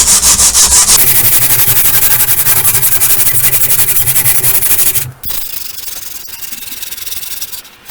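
Rapid, rhythmic rasping of sandpaper scrubbing the edge of a wooden skateboard deck, loud and close, continuing steadily before easing into lighter, softer strokes near the end.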